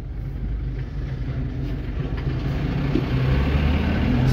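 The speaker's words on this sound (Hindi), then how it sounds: "देख रहे जीप आ रही है" A jeep engine rumbles on a hill road in the hills beyond Jim Corbett, a steady low drone that swells slightly louder as it approaches, with no talk over it.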